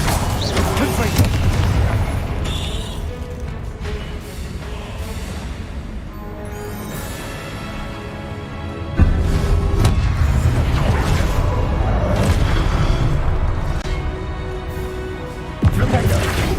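Confringo blasting spells explode in Hogwarts Legacy, a dense run of loud booms and crashes over a thick rumbling game soundtrack, with sharper bursts punching through near the middle and end.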